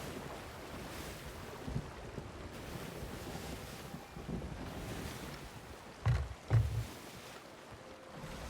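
Ocean waves and wind in the pirate sailing game Sea of Thieves, a steady broad wash of surf and gusting air with a few louder thumps of water against the boat near the end, no voices.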